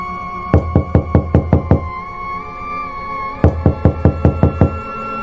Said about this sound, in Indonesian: tiba-tiba terdengar suara ketukan dari pintu depan.